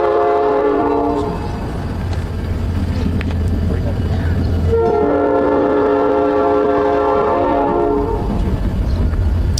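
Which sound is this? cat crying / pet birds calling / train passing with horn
train passing with horn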